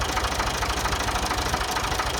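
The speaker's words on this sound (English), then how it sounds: "I think we've got a good runner, a good engine." A Ford 2000 tractor engine runs steadily up close, loud with a rapid rhythmic knocking chug and a dense mechanical rattle throughout, with no voices.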